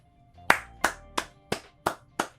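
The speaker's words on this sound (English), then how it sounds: "Gotta give y'all a round of applause." Six sharp, evenly spaced hand claps close to the microphone, a slow single-person round of applause with no crowd behind it.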